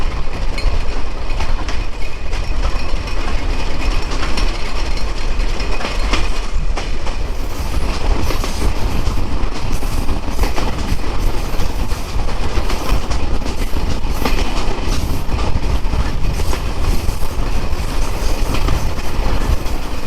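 Sundarban Express passenger train running on its tracks, a loud continuous rumble and rattle of carriages heard from on board, steady throughout with rhythmic wheel clatter.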